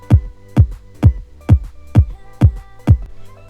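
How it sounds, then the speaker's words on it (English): Four-on-the-floor electronic kick drum pattern: seven punchy, booming kicks at an even, steady pace, each with a sharp attack and quick pitch drop, loud and alone with no talking. "I've got a 4 to the floor kick pattern"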